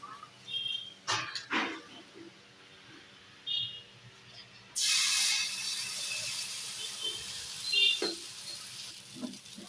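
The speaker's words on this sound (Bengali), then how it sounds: "একদম অল্প তেলে ফ্রাইটা করছি, বেশি তেল দিলে এটাকে ঘোরানো যায় না" A dosa frying in a pan with very little oil: a few light clinks and scrapes, then a sudden bright sizzle bursts in midway and continues as a steady hiss with a couple of utensil knocks.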